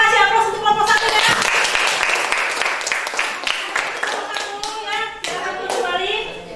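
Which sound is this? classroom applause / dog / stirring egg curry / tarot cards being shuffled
classroom applause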